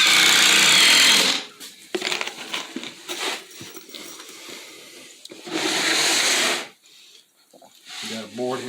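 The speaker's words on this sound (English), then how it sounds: "this is an impact driver" Impact driver driving screws into a swollen wooden board during a mobile home bathroom remodel, loud rattling bursts in two main runs separated by quieter handling and knocking sounds.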